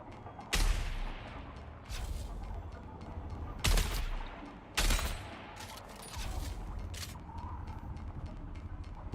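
Sniper gunfire in the video game Dune: Awakening: three loud, sharp cracks spaced a second or so apart over a low rumbling ambient bed, with a fainter shot near the end.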